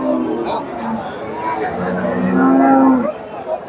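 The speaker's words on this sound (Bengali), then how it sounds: "এই যে বিগ বডির একটা গাভী, এই যে সাথে এই যে বাচ্চাটা" A big-bodied dairy cow at a busy cattle market near Bogura gives a long, loud moo close by, rising toward the end. Market chatter and a speaking voice run underneath.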